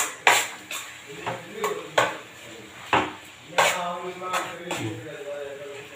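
A ladle scrapes and knocks around a metal pot while country chicken masala semi-gravy is stirred, giving irregular clanks and scrapes close by, with people talking over the cooking.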